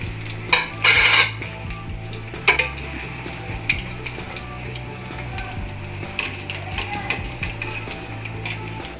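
An egg bomb fries golden brown in a pan, giving a steady close sizzle under repeated clinks and scrapes of a utensil stirring and turning it against the metal.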